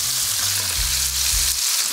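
Tomato and pork cheek sizzle and fry in a pan for an Amatriciana pasta, a close, steady hiss with a couple of low stirring thumps, no voices.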